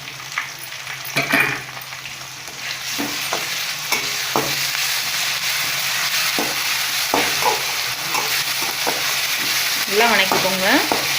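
Ginger garlic paste and onions sauté in a pan for a cauliflower and potato fry, with a steady sizzle broken by repeated scraping strokes of a spatula.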